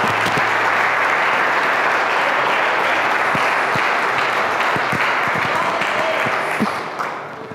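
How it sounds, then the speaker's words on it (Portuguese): A church congregation bursts into sustained, dense applause during an evangelistic service, loud and steady for several seconds before tapering off at the end. "Você pode aplaudir ao Senhor?"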